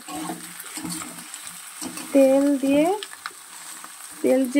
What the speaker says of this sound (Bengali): আলু দিয়ে আর একটু কষিয়ে নেব বন্ধুরা